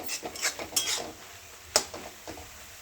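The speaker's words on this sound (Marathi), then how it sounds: "त्याला हलवून घेऊ" Methi bhaji (fenugreek curry) being stirred in a pan: a handful of sharp metallic scrapes and clinks of a spoon against the pan, spaced irregularly and fairly close, with no talking.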